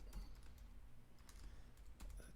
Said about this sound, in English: Typing correctly is challenging.